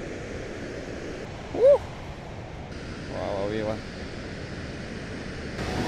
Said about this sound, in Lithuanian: Vau, koksai krioklys didelis.